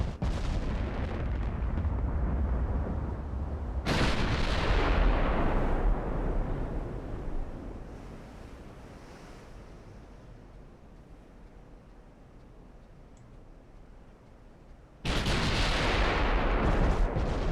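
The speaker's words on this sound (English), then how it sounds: "It looks like at this angle I'm going to be able to get all of those guns firing" Battleship main guns fire in the naval game Ultimate Admiral: Dreadnoughts, with 18-inch and 15-inch guns going off in a loud booming salvo, a rolling rumble that fades, then another heavy salvo.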